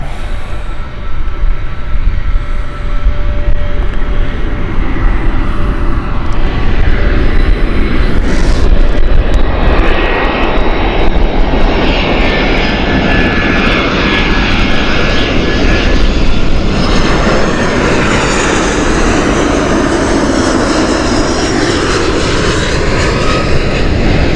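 An easyJet Airbus A320 inbound from Palma arriving at Gatwick Airport, a loud, close roar of jet engines that swells and holds steadily throughout, dense and broad with a shifting rushing whine.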